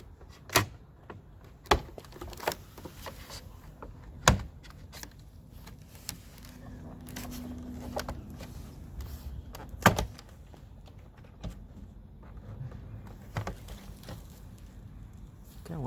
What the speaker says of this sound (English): popping the clips out of the door